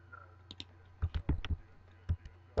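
Computer mouse clicks during a Minecraft session, a few sharp, close taps spaced irregularly, some in quick pairs, over a low steady hum.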